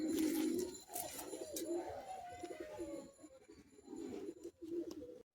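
Andhra breed pigeons coo close by in low, throaty, repeated calls, with soft rustling and a few faint chirps between them.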